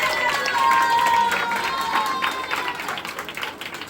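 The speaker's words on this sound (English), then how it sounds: "today we are clapping for our nation" Crowd at an Independence Day celebration at an English café in India clapping together for the nation, a dense steady patter of hands with some voices mixed in, fading slightly toward the end.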